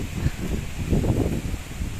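Strong habagat monsoon wind blows behind a house and through banana plants, a rough, gusting rumble with rustling that swells and eases in uneven surges, close to the microphone.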